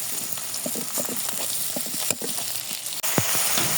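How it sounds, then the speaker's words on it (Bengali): Potato with cinnamon and cardamom fries in hot oil with a continuous close sizzle. Soft stirring scrapes and taps run through it, and a sharp knock of the spatula sounds near the end. "আলুটা দিয়ে একটু ভেজে নিচ্ছি"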